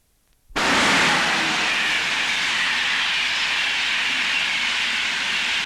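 A northbound non-stop train rushing through Retford station makes a sudden loud onset of hissing, rushing rail noise that stays strong and steady to the end, with no voices.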